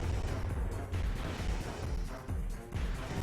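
Rocket explosions from Armored Core 3 strike targets in a dense barrage, loud, continuous booming and crashing blasts with several rhythmic impacts and no voices.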